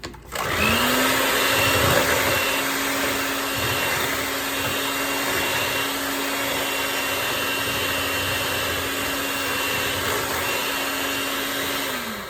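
A hand mixer whirs loudly and steadily while beating coconut pie filling, a constant close motor drone that starts abruptly and holds at one pitch for the whole stretch, with no talk.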